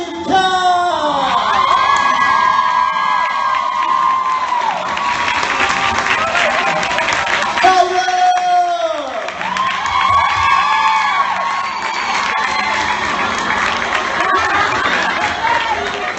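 A large crowd at a fan convention panel screams and cheers loudly for several seconds. Shrill voices swell, dip briefly, then surge again in a sustained roar.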